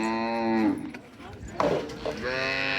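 Native cattle low loudly at the Kannapuram cattle market, one long deep moo followed after a short gap by a second drawn-out call, close by, over faint background noise.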